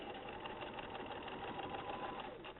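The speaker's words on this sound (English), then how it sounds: "So I'm going to sew straight down here." A sewing machine runs steadily while stitching a straight seam down the fabric, a faint continuous whirring hum with no breaks or talk.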